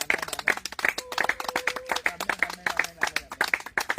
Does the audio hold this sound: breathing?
no